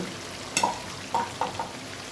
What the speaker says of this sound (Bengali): এই যে মাছ, ভাজা মাছ দিয়ে দিতেছে।